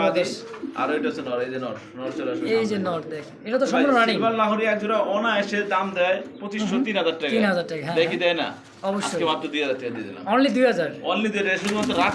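Potter pigeons coo in soft, repeated throaty calls close by, mostly beneath someone talking almost continuously.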